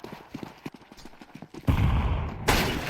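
In a Counter-Strike 2 match, quick footsteps patter before two loud, close sniper-rifle shots crack out less than a second apart, each ringing on briefly.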